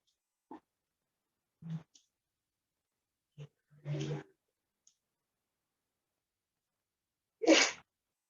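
A person sneezes once, sharply and close, in a quiet room during a Spanish-language church Bible study, with a few soft thumps and clicks scattered around it.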